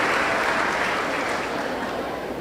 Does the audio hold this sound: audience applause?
yes